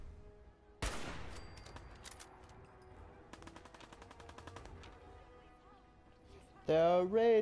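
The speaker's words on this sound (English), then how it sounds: "There are raiders shooting at" Gunfire from raiders in the video game Fallout 4: a sharp loud shot, then a stretch of rapid repeated gunshots in a steady burst, ending with a louder sustained noise.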